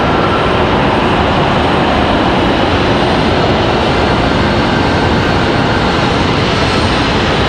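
American Airlines jet from Dallas Fort Worth at Charlotte airport, heard as a sustained, loud, even roar of engines with dense low rumble, unbroken for several seconds and without talk.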